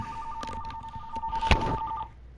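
Phone alert tone, a short steady electronic beep lasting about two seconds, faint against quiet room noise.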